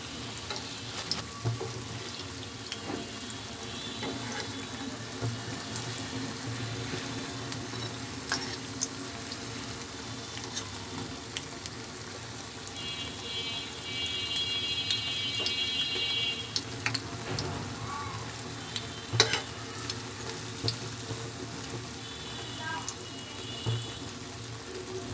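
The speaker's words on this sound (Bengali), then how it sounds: "আরগুলো এক এক করে ভেজে নিচ্ছি।" Jilapi coils frying in hot oil, a steady low bubbling sizzle with occasional splashes and utensil clinks, continuous and fairly close, no talking.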